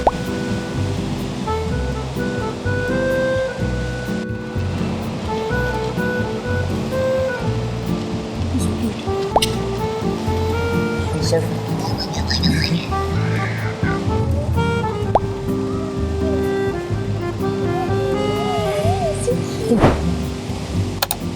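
Ocean waves crash against the rocks at Sunset Cliffs in San Diego, a continuous heavy roar of surf with surges and wash, heard from a clifftop lookout with a voice talking faintly over it.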